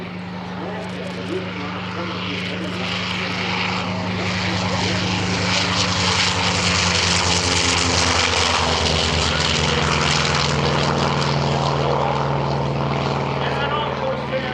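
A Korean War-era F4U Corsair propeller warplane flies at the EAA AirVenture air show. Its engine drone holds steady and swells louder through the middle, with an announcer talking over it.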